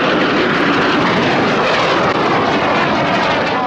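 A display aircraft flying double rolls low at Yeovilton Air Day airshow roars with a loud, continuous engine drone throughout, sustained and close overhead.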